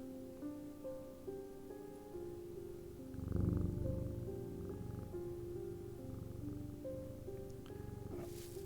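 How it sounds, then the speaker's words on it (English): A cat purrs steadily and close while held against a person's chest and rubbing its head on their chin, a low continuous rumble that swells louder for a moment in the middle. "he rubs my chin with the back of his head, purring with delight"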